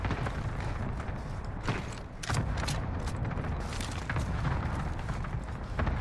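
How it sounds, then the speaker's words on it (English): A cluster strike rains down in a Call of Duty Warzone match on Rebirth, a dense run of rumbling booms and crackling blasts, loud and nearly continuous, with sharper bursts breaking through the barrage. "Call for fire. Got your request. Cluster strike is active."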